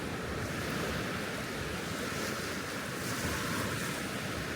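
Waves wash constantly onto Sao Beach on Phu Quoc Island, Vietnam, a dense, even roar of surf with wind buffeting the microphone and no talking.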